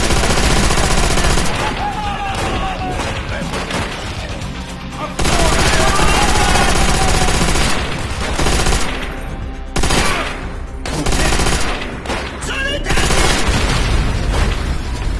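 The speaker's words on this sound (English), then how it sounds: "Let the grenade go off first." A grenade blast and gunfire from a World War II shooter game, Call of Duty: World at War, played on PC. Loud, dense bursts of shots and booming impacts run almost without a break.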